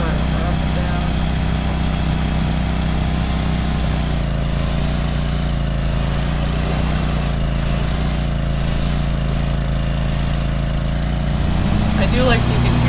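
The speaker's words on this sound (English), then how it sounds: "I do like you can hear the hydros whirring on this one" A ride-on mower in Lawn Mowing Simulator drones steadily throughout, its hydrostatic drive whirring under the engine's low, even idle-like hum, close and continuous with no breaks.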